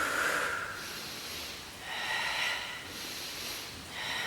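Slow, audible breaths during a Pilates exercise, with airy inhales and exhales that swell and fade in a relaxed rhythm, close to the microphone and with no talking.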